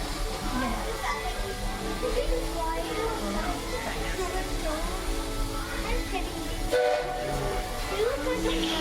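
The Walt Disney World Railroad train rumbles steadily, with constant mechanical clatter and rail noise, while passengers chatter and children's voices carry over it throughout.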